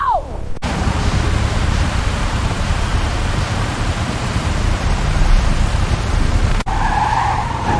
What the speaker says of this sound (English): This rain is terrible.